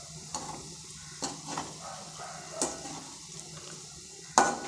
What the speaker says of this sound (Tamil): இப்போ நான் கொஞ்சம் எண்ணெய் ஊற்றி அந்த காலிஃப்ளவரை